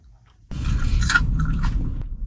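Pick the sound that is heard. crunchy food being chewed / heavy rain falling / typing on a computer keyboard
crunchy food being chewed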